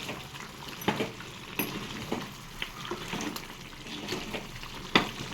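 A spoon scraping and stirring through a thick, bubbling chicken curry in a clay pot, with soft sizzling underneath and several sharper knocks against the pot.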